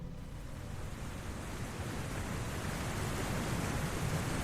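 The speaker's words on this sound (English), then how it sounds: "water just starts to just flow." Water rushes steadily after a knob is cranked open, a loud, continuous broadband roar like surf that stays even and close throughout with no talk over it.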